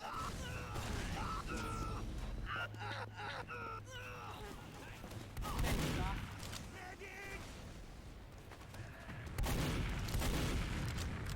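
Players fighting in a shooter game on the Gullywash map: faint, scattered gunfire pops and explosion thuds under a busy game mix, with voices talking throughout.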